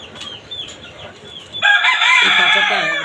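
Tiger chickens on a rooftop farm cluck nearby, faint at first and then a dense, loud burst of squawking and clucking from several birds that continues to the end.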